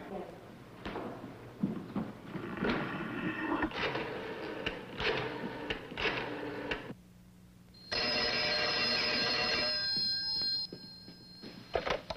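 On an outgoing call in a 1963 thriller film, a telephone rings through the earpiece in a long, steady burst, preceded by clicks and rattles from dialing and handling, with a voice heard earlier.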